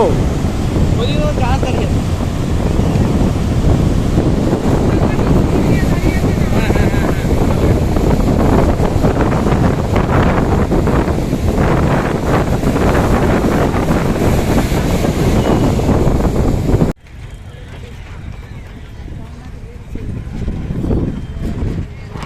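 Sea surf at Chennai Marina beach makes a steady, loud roar mixed with heavy wind buffeting on the microphone. It continues unbroken for most of the time, then drops sharply to a quieter wash near the end.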